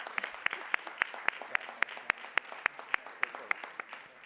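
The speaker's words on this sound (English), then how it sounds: "Can we start with a round of applause?" Applause breaks out at a school board meeting, heard as steady, evenly paced claps with sharp regular beats over a soft background wash, moderately loud throughout.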